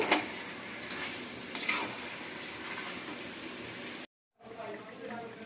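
Potatoes frying in a pan while being stirred, a steady close sizzle with scraping under it, broken by a brief silent gap near the end before the sizzling resumes.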